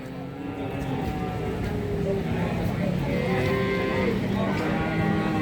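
Cattle mooing at the Babat Lamongan cattle market in Indonesia: several drawn-out moos from different animals overlap above a dense, steady crowd murmur, with speech mixed into the background.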